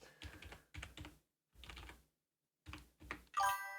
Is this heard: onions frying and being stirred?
no